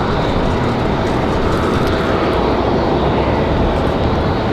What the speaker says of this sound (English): This is an A220. I assume off to Boston.